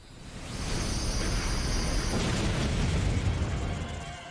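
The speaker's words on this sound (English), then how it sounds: "Dynamax Cannon. What does this do?" A Dynamax Cannon attack in a Pokémon video game lands as one sustained roaring blast, swelling over about half a second and holding as a dense, rumbling explosion before tapering off.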